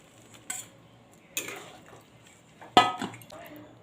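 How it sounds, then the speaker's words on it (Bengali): Fried okra being tipped into a cooking pan, heard as three brief clattering bursts against the pan, close and moderately loud, with a quiet background between them. "এবার ভেজে রাখা আমি ভেন্ডিগুলো দিয়ে দিচ্ছি"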